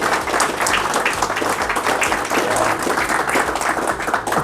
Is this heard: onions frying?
no